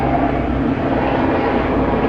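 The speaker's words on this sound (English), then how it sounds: "Helicopter flying around." Steady, loud rotor and engine roar of a helicopter overhead, a continuous broadband rumble with no gaps.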